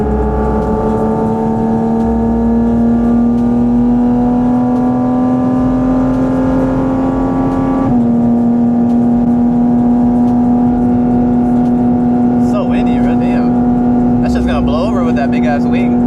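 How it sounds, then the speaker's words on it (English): Loud, steady engine and induction drone inside a Porsche GT4 RS, a strong held tone that shifts abruptly partway through as the revs change, with brief voices near the end. "This thing's so loud inside, it's crazy. That induction noise."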